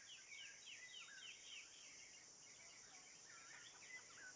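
Ambient birdsong on the Ancient map of Counter-Strike plays faintly: repeated high chirping calls over a steady insect-like high drone, distant and quiet throughout, with no voices.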